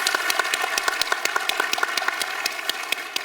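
A studio audience at a journalism talk show applauds warmly, with steady, fairly close clapping and sharp individual claps standing out throughout.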